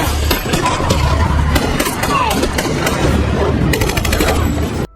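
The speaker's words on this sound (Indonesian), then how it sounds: "hingga terjadilah baku tembak sengit antara mereka dan komplotan pemberontak" Rapid gunfire bursts from a film shootout with rebel fighters, loud and sustained bursts crackling near throughout, ending abruptly, with voices under the shooting.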